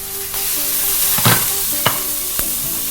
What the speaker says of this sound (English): And we're just going to quickly fry it.